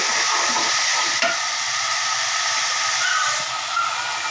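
Spices sauté in a hot pan with a continuous loud sizzle and hiss, a short scrape of stirring near the start and faint clinks, with no talking.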